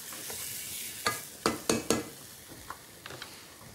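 A pan of food sizzles steadily for a tajine with figs and lemons while a utensil scrapes and stirs in several sharp strokes, close up with no talk.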